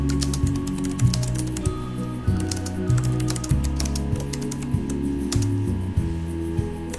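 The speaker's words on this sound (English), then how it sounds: "Just gonna get up here so I can type it in." Someone types in quick, uneven bursts of clicks on a computer keyboard, close and clear, with a soft musical background underneath.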